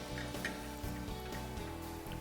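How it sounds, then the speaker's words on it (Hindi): Pav bread toasting in a little butter over very slow heat for masala bhurji pav, a faint, steady, soft sizzle with light ticking crackles and no talk. "पाव को सेकने के लिए थोड़ा सा बटर, बहुत ही स्लो हीट पे ताकि बटर जले ना।"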